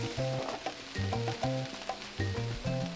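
Onions, peppers, zucchini and mushrooms sizzle in olive oil in a pan, a steady frying hiss running beneath louder tonal background notes that come and go.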